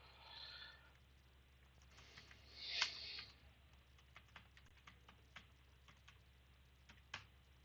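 Faint, scattered taps of a computer keyboard as code is typed, irregular clicks with brief pauses and one or two sharper keystrokes, close and alone in a quiet room.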